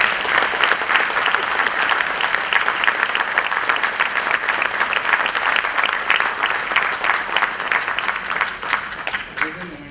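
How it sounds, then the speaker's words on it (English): Sustained audience applause at a national polar and ocean research institute's foundation day award ceremony, dense steady clapping from a large crowd filling the room for about ten seconds without pause. "Please a round of applause."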